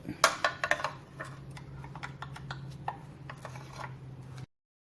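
Bolts being fitted and tightened into the front of a 1958 Johnson/Evinrude 10 HP outboard powerhead, a cluster of sharp metallic clicks and taps early on, then scattered lighter ticks over a low steady hum, close by.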